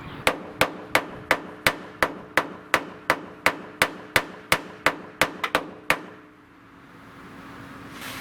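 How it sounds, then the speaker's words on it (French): A hammer drives a chisel against the metal body of a Nissan S14 being tuned: about sixteen sharp, evenly spaced strikes up close, a quick double hit near the end, then a quiet hum. "Donc, marteau, burin et on fait le bourrin."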